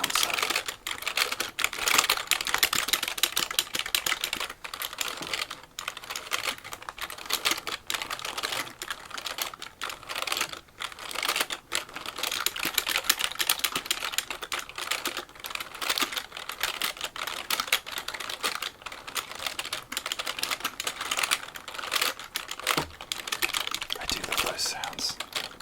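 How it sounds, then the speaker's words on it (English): A work computer keyboard is tapped and typed on at close range, producing a dense, continuous patter of crisp plastic key clicks, with soft speech underneath. "this is my work keyboard. I like keyboard sounds."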